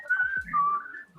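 A person whistles a few bending notes of the Captain Kangaroo tune, close and fairly clear, with a soft low thump underneath and no speech.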